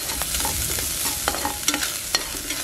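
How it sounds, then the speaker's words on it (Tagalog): Garlic sautéing in used olive oil in a pan, a steady close sizzle with scattered light clinks and scrapes of a utensil stirring against the metal. "And then saute garlic."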